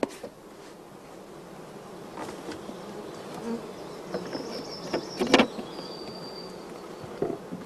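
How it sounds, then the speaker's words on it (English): Honey bees hived like a natural swarm into a multi-storey hive, a steady close buzzing hum throughout with a few sharper passing drones and a brief louder burst near the end. "the bees are hived just like a natural swarm"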